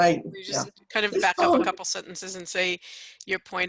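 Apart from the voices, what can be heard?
No distinct noise like a dog, phone or traffic.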